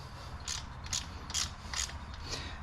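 Allen wrench loosening tappet block bolts on a Harley-Davidson Street Glide: five short, evenly spaced metallic clicks of the tool, faint and close, over a low background hum.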